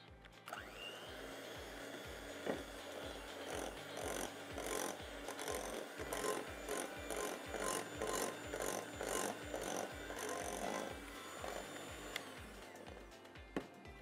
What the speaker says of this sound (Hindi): पहले ज़रा मैं मिक्स कर लूँ इसको